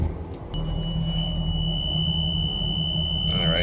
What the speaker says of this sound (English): I should get an alarm here also because I just unplugged it